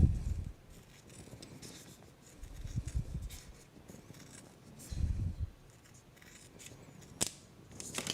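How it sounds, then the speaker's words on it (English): Several short bursts of scissor cutting, snipping in brief clusters with pauses between, close up and fairly quiet, with a sharper click near the end. "And then I'm going to trim"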